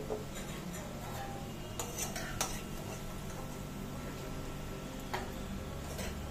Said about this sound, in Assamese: প্লেটত এইখিনি উঠাই লৈছো